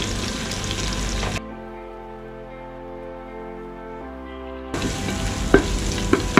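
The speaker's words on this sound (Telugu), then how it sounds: "ఉల్లిపాయలు అన్నీ ఇలా ఫ్రై చేసుకోవాలి చక్కగా" Onions frying in a pan give a loud, close sizzle that cuts out for a few seconds while a low steady hum fills the gap, then returns with sharp crackles and pops.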